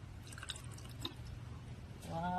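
Cold water is poured and dripped into a sweet bel (wood apple) drink being mixed in a kitchen. Faint, scattered drips and a soft liquid trickle sit close by, ending in a brief higher, ringing tone.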